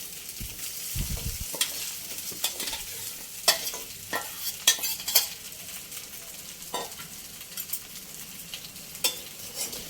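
Raw mango and sugarcane jaggery stirred in a hot pan: a spoon scrapes and clacks in an irregular rhythm over a low sizzle, close and moderately loud.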